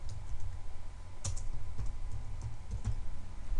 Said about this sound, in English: typing in their name